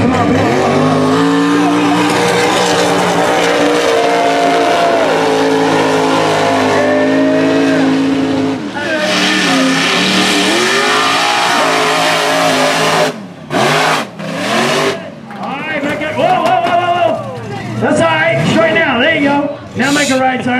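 A mega truck's engine roars and revs loudly through a tight turn in a mud park race, running continuously with throttle surges and a few drops near the end, while excited commentary talks over it.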